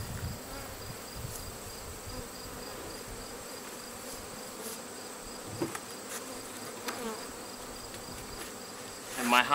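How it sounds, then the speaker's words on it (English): Swarm of honeybees buzzing around a Langstroth hive, a continuous dense drone with individual bees passing close now and then, outdoors and without talk. "move the actual hive of bees here"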